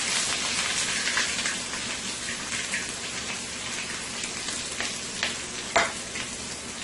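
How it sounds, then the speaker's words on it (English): Onions, chili pepper and scallion fry in hot oil with a steady, close sizzle and crackle, broken by a few sharper pops and spatters. "I am going to let this fry it up for about a minute or 2 into my oil here before I add my potatoes"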